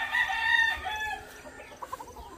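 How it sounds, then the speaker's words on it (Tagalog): A fighting rooster crows once in a long, drawn-out call, followed by a few short, quieter clucks. "ang gaganda ng mga pangsabong na manok"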